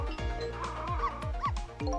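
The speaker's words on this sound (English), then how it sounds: "What exactly are you barking about anyway?" Dog barks from the video game Ghost Trick, a string of short, sharp yaps in quick succession over steady game music.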